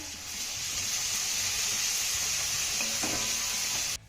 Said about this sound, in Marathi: आता घातलेला ठेचा आपल्याला एक मिनिटभर चांगला परतून घ्यायचा आहे